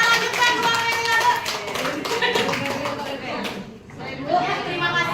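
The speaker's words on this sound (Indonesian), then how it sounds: "tepuk tangan dulu dong" A classroom group claps together in a lecture session, a dense burst of overlapping hand claps that fades briefly and picks up again, with voices chattering underneath.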